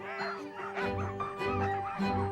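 Several sled dogs yip, whine and bark excitedly at the start of a race, a restless overlapping chorus of eager calls up close.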